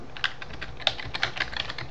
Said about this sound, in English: you won't see any characters here when you type in the password